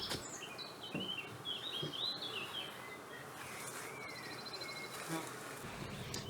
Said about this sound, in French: Les butineuses rentrent directement dans la nouvelle ruche